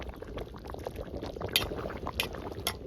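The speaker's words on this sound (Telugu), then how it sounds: "మనకు పూర్తిగా మునుగుతూనే మనకు ఫిష్ అనేది పర్ఫెక్ట్ ఉడుకుతుంది." A whole fish curry simmers in a village cooking pot, with continuous bubbling and small liquid pops close by, fairly quiet and without talk.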